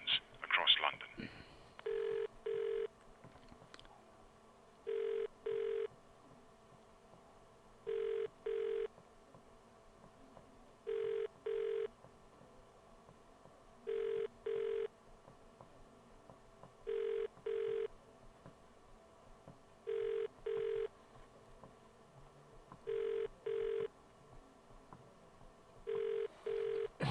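A UK-style telephone ring tone repeats in regular double bursts on a call to a London police line, ringing unanswered over and over at a steady rhythm under a faint background hiss.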